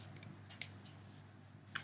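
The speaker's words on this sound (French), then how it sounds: "je vais avec mes ciseaux venir couper" Scissors snip through the toe of a sock for a sock bun hairstyle, giving two sharp, brief clicks spaced about a second apart over a low steady hum.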